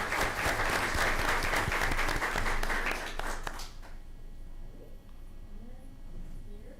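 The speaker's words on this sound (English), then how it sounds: "So let's show a round of applause." A room at a school board meeting breaks into a round of applause, dense sustained clapping for about four seconds that then stops abruptly, leaving quiet room tone with faint murmuring.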